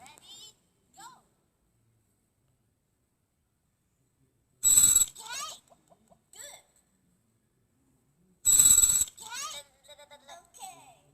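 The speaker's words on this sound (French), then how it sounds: "Quand le téléphone sonne, il faut appuyer, mais pas avant." Telephone ringing in a reflex video game where players must press as soon as it rings, two loud bright bursts around five and nine seconds, each followed by brief chirpy game sounds, with quiet gaps between and faint voice fragments.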